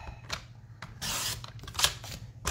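Scissors or a paper trimmer cutting cardstock for a Stampin' Up style craft project, with several short dry rasping slices and rubs close by, one longer steady cut in the middle, and no talking.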